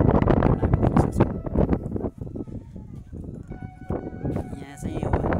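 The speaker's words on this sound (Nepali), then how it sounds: "यहाँ चाहिँ यो हावा चलेर अत्याधिक हावा चल्ने भएका कारणले चाहिँ यहाँ साउन्डको क्लियरिटी नहुन पनि सक्छ" Strong gusts of wind batter the microphone on a hilltop view tower, a rough, low rumbling roar that swells and fades beneath a voice speaking throughout.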